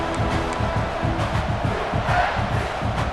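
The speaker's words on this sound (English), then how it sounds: "This crowd going to try to make life miserable for these guys." Stadium crowd noise from the EA Sports College Football 26 video game, a steady loud roar of many voices filling the whole stretch with no break.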